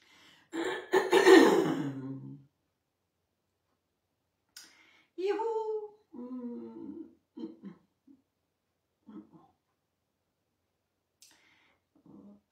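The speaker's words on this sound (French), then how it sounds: "je tousse" A harsh, close cough bursts out at the start, followed by quieter scattered throat sounds and soft vocal noises separated by silences.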